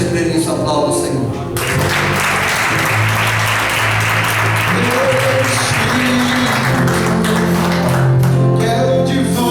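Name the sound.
church congregation applauding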